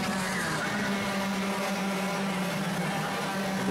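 Racing karts in a Club100 Clubman sprint race final at Bayford Meadows drone past in a steady, continuous buzz of small engines at moderate distance, several machines blending into one unbroken roar with no pauses.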